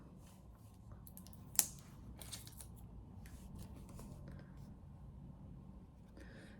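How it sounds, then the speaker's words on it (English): A plastic cover is peeled off a W7 Vickaboo Let's Party makeup palette: one sharp crackling snap stands out, with faint rustling and handling before and after, close and quiet. "So I'll take the plastic cover off of it so you can get a better look"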